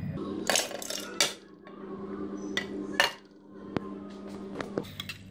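Mutton achar gosht is scraped and tipped into a bigger pan, with repeated metal clanks and scrapes of utensil on cookware, a few sharp clinks and taps, close and fairly quiet against a low steady kitchen hum.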